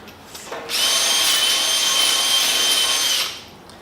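A power drill drilling during a roll cage install on a Ralliart car whirs loudly and steadily for about two and a half seconds, rising in, then winding down, with no talking.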